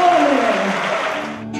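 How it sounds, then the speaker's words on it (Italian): Audience applause at an Italian dialect and folk song festival, a steady dense wash of clapping that fills the short moment and fades slightly toward the end. "Applausone!"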